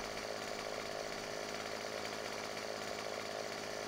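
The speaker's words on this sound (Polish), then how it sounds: "Ogólnie właśnie jak tnę kłody, to staram się je zawsze jak najdłuższe ciąć" A chainsaw cutting logs in the Farming Simulator 17 video game, a steady, unbroken buzzing engine whine held at constant pitch throughout, fairly quiet and with no talk.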